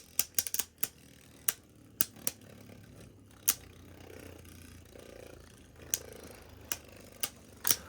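Beyblade tops World Spriggan and Variant Lucifer clash in a stadium, giving sharp, irregular plastic clicks and cracks over a faint whirring spin.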